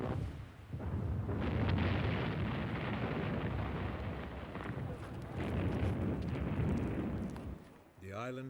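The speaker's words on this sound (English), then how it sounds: "In early 1941, the Luftwaffe bombed Malta." Bombs burst during the 1941 Luftwaffe raids on Malta in World War II, a long stretch of deep rolling booms and rumbling that fades out before a voice begins speaking at the very end.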